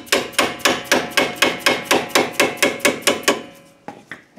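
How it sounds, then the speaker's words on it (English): A mallet taps on a lock nut during a rear wheel hub replacement on a 2007 Kia Sportage, about fourteen sharp, evenly spaced metallic knocks in quick rhythm, followed by a short pause and two final taps, close and clear. "I'm going to tap on this with a mallet"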